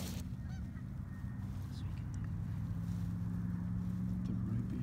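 Geese honk repeatedly all around duck hunters at a Wisconsin marsh before dawn, several calls near and far over a steady low rumble.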